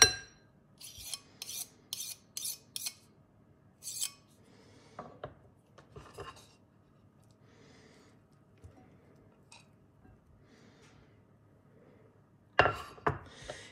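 Fork scraping and mashing butter with Auvergne blue cheese in a bowl, giving several short rasping clinks in bursts with quiet gaps between them.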